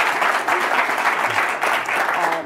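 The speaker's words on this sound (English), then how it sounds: "please let's give another round of applause to Jack for his time" Sustained audience applause for Jack Ma, Alibaba's executive chairman, at a public event, dense and steady throughout with a faint voice beneath.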